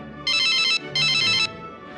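A phone text-message alert chimes twice in quick succession, two bright sustained tonal bursts of about half a second each, loud and close over a quiet room with no talking.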